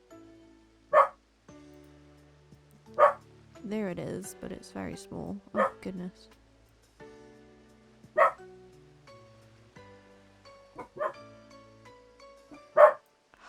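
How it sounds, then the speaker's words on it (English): Pet dogs bark in short, sharp, isolated yaps spaced a few seconds apart, somewhat distant in a home, while someone talks in between. "Sorry if you can hear my dogs in the background who are deciding..."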